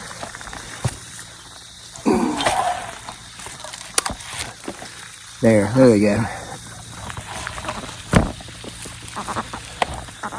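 Ducks splash and paddle in a backyard pond, with bursts of water churning and a brief quack-like call over steady outdoor ambience, while someone talks nearby.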